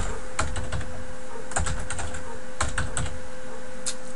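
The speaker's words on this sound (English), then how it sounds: "So I'm going to put in my email here. Give me a password." Rapid clicking of keys on a computer keyboard as an email address and password are typed, irregular bursts of close keystrokes with short pauses, no talking.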